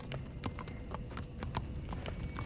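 Horse hooves clip-clop steadily in The Walking Dead Season 4 video game, a brisk, even rhythm of hollow knocks over a low ambient rumble, with no voices.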